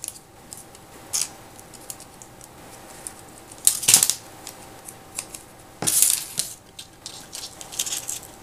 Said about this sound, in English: you can even use your scissors to cut the ends off the toothpicks